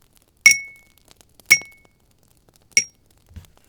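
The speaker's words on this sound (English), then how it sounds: "we ring the bell or tap the glass to get his attention 3 times" A glass tapped three times, each a bright ringing clink with a short decaying tone, evenly spaced and close, with no voices around them.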